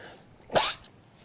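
A single sharp human sneeze, close and fairly loud, bursting out briefly against a quiet room during a play session of the game Spyro 3: Year of the Dragon.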